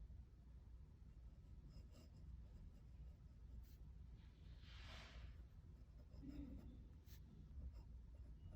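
Glass dip pen scratching across paper, faint soft strokes and light scratches in a quiet room, with low background hum.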